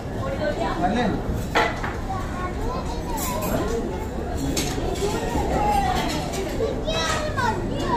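Dishes and bowls clattering in a home kitchen, with scattered light clinks and knocks under constant children's chatter and play noise, near and moderately loud.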